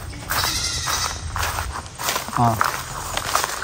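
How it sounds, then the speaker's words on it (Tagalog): Goats bleat on a farm in short harmonic calls among rustling and footsteps, with a person talking in the background throughout. "Napakaraming kambing."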